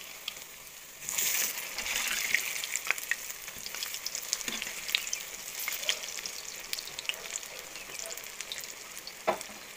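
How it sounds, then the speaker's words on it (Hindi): A wheat-flour snack sizzling in a pan over a low gas flame, a steady close crackle and hiss with occasional louder pops and a few stirring sounds, no voices. "ये फ्राई हो रहा है, आप देख सकते हैं।"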